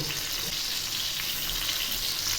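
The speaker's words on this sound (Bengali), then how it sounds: "এক পাশ ভাজা হয়ে গেছে এবার আমি উল্টে দিচ্ছি" Bheda fish frying in hot oil in a pan as the pieces are flipped, a constant close hiss and sizzle at moderate level with no talk.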